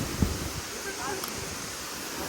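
Wind gusting near Kemburli waterfall, a steady broadband rush of air and falling water that holds at an even level throughout, with a brief low thump near the start.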